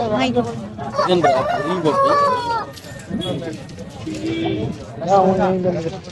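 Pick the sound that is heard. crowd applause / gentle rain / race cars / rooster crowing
rooster crowing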